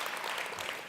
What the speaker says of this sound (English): Could we give him a round of applause